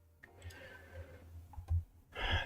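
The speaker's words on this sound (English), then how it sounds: "Sorry if you guys can hear me typing." Keyboard typing at a trading desk during a live futures scalping session: a few sparse, faint clicks over a low room hum, close to the microphone.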